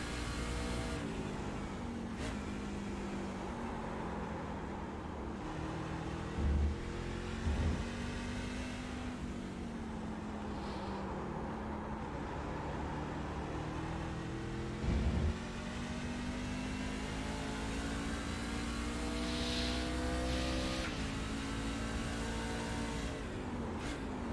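A race car circles Watkins Glen in a racing video game, its engine droning steadily with rising and falling pitch through gear changes and corners, with occasional bumps and a constant close whine, no talk.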